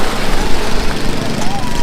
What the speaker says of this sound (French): On va maintenant assister à la finale de course de tracteur tondeuse.